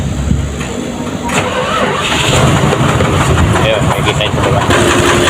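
A faulty truck engine cranks and catches, then settles into a loud, steady rumbling idle close by while someone talks over it.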